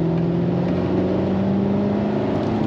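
A BMW accelerating on a test drive, its engine running unevenly with a jerky gear change, gives a steady, close engine drone with strong low humming tones throughout, and no talk.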